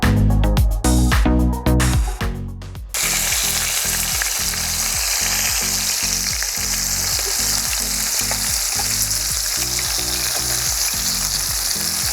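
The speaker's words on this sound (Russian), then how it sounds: "Масло в сковороде нагрелось. Обжариваем наших карасиков." Crucian carp frying in hot oil in a pan over a grill, a loud steady sizzle and crackle that continues throughout, with a few clattering thumps at the start.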